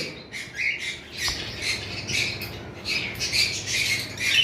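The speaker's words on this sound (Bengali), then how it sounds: "এখানে একটা লাভ বার্ড রয়েছে" Lovebirds and other pet birds in a bird shop give repeated shrill squawks and chirps, several overlapping at moderate distance, over a low steady background hum.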